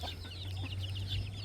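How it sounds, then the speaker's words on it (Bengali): Guinea fowl chicks on a farm give a few soft, quick high peeps close by over a low steady hum. "তিতির মুরগির বাচ্চা।"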